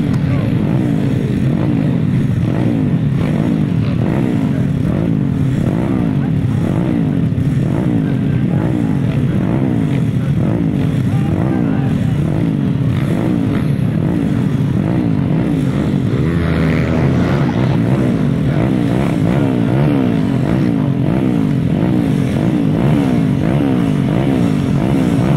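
Grasstrack racing motorcycles roar past at a championship meeting, a dense, loud, continuous blare of several engines with rising and falling pitch as the pack goes by.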